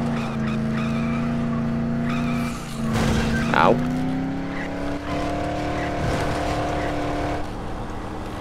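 A car drives in the video game Dead Island, its steady engine drone rising and falling with tire skids, with a voice speaking briefly over it.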